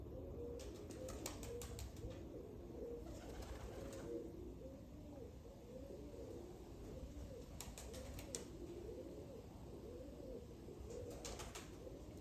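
Cheeny Jugnu pigeons coo in steady repeated rounds close by, with occasional light clicks and rustles between the calls.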